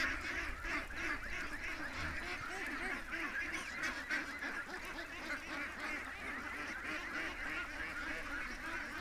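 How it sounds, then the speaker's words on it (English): Runner ducks and geese in a pen honk and quack continuously, a busy chorus of overlapping calls at moderate distance. "Oh, there's a little runner duck."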